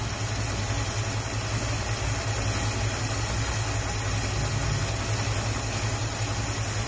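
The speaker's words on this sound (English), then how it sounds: "The hottest this engine's been and the longest it's run since it was parked in 1994" A 1957 Chevy Nomad engine, parked since 1994, idles steadily and fully warmed up, giving a continuous low, even rumble with a constant hum and no speech over it.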